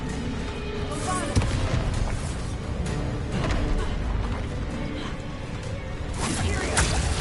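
A Bombarda blasting spell cast in Hogwarts Legacy lets off a booming burst amid a dense, continuous wash of combat noise, with rumbling impacts surging around the middle and again near the end.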